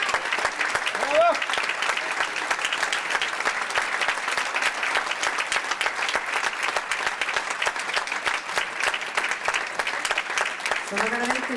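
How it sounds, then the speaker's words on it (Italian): Audience applause after a song at a tribute concert for Mother Teresa, a dense steady clapping that fills the whole stretch, with a brief voice calling out near the start and another at the end. "Sono veramente felice che vi sia piaciuta, la sento da come applaudite."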